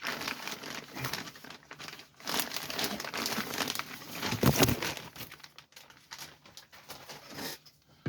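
A plastic bag is crinkled, torn and pulled off a new Derya TM-22 Cadet .22 rifle: a run of close, loud crackling and rustling with a sharper tearing burst partway through, and no talk.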